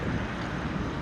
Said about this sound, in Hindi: हवा चलने लगी है बिल्कुल।